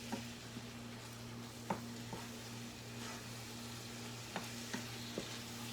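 Food cooks in a pan with a low, steady sizzle over a constant hum, broken by a few faint clicks of a utensil. No one speaks.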